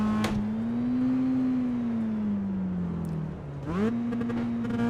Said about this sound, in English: What you could actually hear there was the engine RPMs coming up